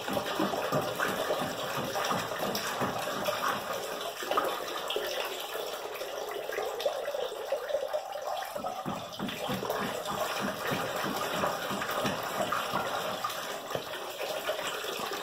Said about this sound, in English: and it pumps water now.